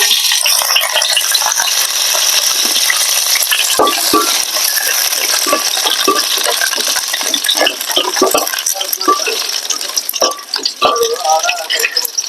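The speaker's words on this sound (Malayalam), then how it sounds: "കറിവേപ്പില ഇടുമ്പോൾ ഒരു ഒച്ചയൊക്കെ കേൾക്കും നമ്മൾ പേടിക്കരുത് ആരും" Washed curry leaves drop into hot oil in a home kitchen and sizzle loudly, with a dense crackling spatter and sharp pops that stay close and continuous, slowly thinning toward the end.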